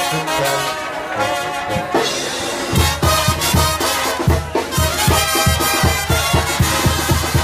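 Banda-style ranchera tune at a Mazatlán, Sinaloa seafood restaurant, full band with steady rhythmic bass and percussion hits, loud and continuous throughout, no talking over it.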